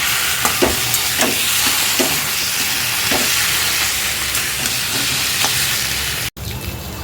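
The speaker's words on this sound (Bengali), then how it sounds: "এবারও খুব ভালোভাবে একসঙ্গে নেড়ে নেব" Taro leaves fry in a pan with turmeric and salt, giving a continuous loud sizzle while a utensil scrapes and stirs in a rhythm of soft knocks, ending in a brief cut near the close.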